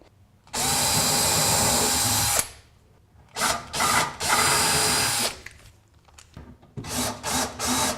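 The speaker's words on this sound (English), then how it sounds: "pre-drill and screw the screws in." A power drill whirs in bursts while pre-drilling and driving screws into hinges, one long run followed by several shorter pulses, close and loud.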